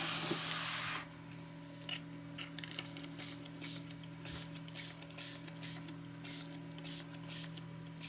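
Red paint sprays in a long opening hiss, then in a series of short, even bursts at close range, with a faint hum behind them.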